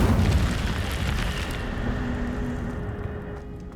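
An Incendio fire spell bursts in Hogwarts Legacy with a loud, booming whoosh of flame at the start, then a rumbling roar that slowly fades.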